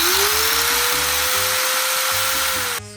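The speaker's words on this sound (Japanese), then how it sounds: "FRP 用のディスクグラインダーを使って穴を開けていきます。" Disc grinder meant for cutting FRP, switched on and run at full speed: a loud, steady high-pitched whine with a slowly rising tone over a rough, rattling low hum, close up, cutting off abruptly at the end.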